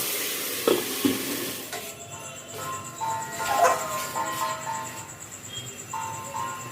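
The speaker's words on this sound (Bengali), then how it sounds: "লাল শাক ভাজা।" Red amaranth greens frying in a home kitchen pan, a steady close sizzle with occasional stirring scrapes, joined by faint clinks and a thin high electronic tone.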